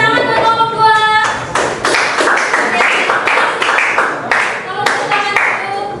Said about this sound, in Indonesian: Oke, tepuk tangan buat kelompok 2.